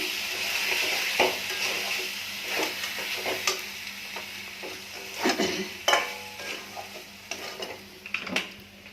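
Boiled diced potatoes frying in spiced oil in a pan and being stirred, a steady sizzle broken by repeated scraping and clinking of the spoon against the pan, close and moderately loud, with no talking.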